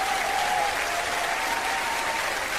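A large arena crowd at the 1996 Eurovision Song Contest in Oslo, Norway, clapping and cheering in a dense, sustained roar of applause with a faint tonal whistle running through it and no clear talking.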